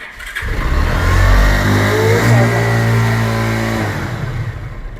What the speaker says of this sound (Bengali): আমি একটু গাড়িটা একটু স্টার্ট দিই